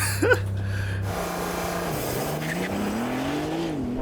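New all-wheel-drive Porsche 911 launching hard from standstill, a brief tire chirp, then the engine note climbing steadily through the revs in one continuous, moderately distant pull.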